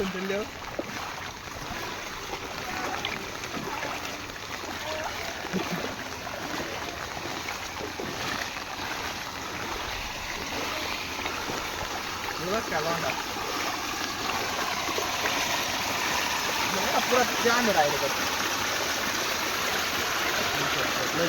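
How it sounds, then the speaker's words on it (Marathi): Floodwater pours through a sugarcane field after heavy rain in the Sonai area of Maharashtra, a steady broadband rush that swells slightly louder toward the end, with a brief spoken word near the start. "सारे ऊसातून पाणी चाललंय"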